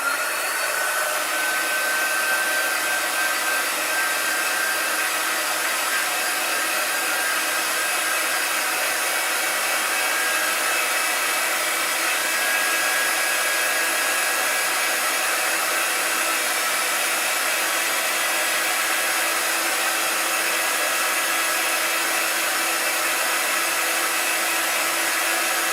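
A hair dryer blows steadily at close range, drying a chalk-and-flocking-powder 3D snowflake craft; the whirring airflow runs continuously and evenly with no talking.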